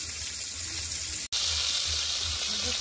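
Fish pieces sizzling in hot oil in a pan, a steady close crackle and hiss that drops out for a moment and then carries on brighter.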